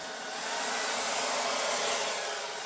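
Hair dryer blowing white acrylic paint over colours in a Dutch pour, a steady, close, loud whooshing hiss held without a break and with no talking.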